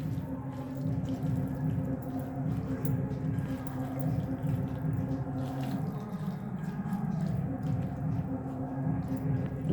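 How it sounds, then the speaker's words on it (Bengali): Fish is mixed by hand with spices and oil, producing soft, continuous wet squelching and squishing close up, moderately quiet with no talk over it. "মাছটাকে বেশ ভালো করে মেশাতে হবে"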